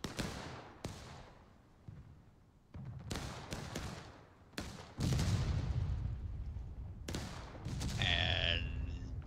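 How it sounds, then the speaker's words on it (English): Civil War cannon fire rings out from both sides of a battle: a series of sharp, booming blasts at irregular intervals, some near and loud, others more distant, with rumbling between shots. "cannon fire coming in from both directions, respectively, as they want to get into the fray as well."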